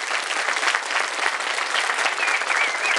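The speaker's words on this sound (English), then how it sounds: "Let's give a round of applause for our candidates one more time." An audience applauds political candidates at the close of a candidate forum, with steady, dense clapping that stays loud and continuous throughout, without a break.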